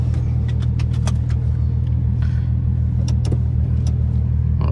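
A Volkswagen Jetta VR6 engine with a straight-pipe exhaust idles loud and close, a steady deep droning rumble with a few brief sharp rattles and clicks over it, and no talking.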